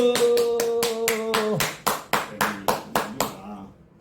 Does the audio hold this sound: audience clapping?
yes